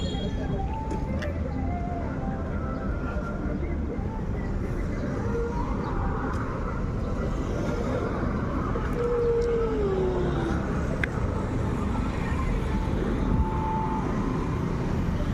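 Steady road traffic noise with motorcycles passing nearby, engines humming and droning continuously, with a person talking over it.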